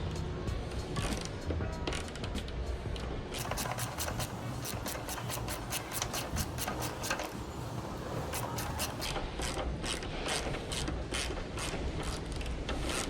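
Close mechanical ratcheting while tightening a bolt and nut on a carbon racing windshield for a Royal Enfield Himalayan motorcycle, a steady run of rapid clicks and rubbing with bursts of sharper ticks throughout, no talking.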